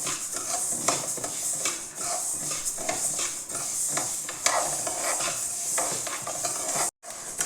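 Ripe red chillies fry in a pan over low to medium heat, a steady close sizzle broken by the scrape and clink of stirring against the pan, with a brief sharp cut near the end.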